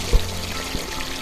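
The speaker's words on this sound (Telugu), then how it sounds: "ఇందులో మనం ఇందాక నానబెట్టుకున్నాం కదా, ఆ రొయ్యలను అయితే ఇందులో వేసుకున్నాము" Soaked tiger prawns drop into hot oil over a medium flame with a soft thud, and a steady, close sizzle follows.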